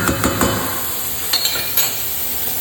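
Garlic dropped into a hot sizzling pan for Sicilian chicken, a steady close fry hiss with several quick utensil clinks and scrapes against the pan near the start and middle, no talk.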